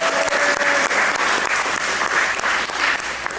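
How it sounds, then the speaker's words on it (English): Audience applause for Arnell at a creative summit, a steady dense wash of clapping sustained for several seconds, loud and close with no talking over it. "can we give a round of applause for Arnell?"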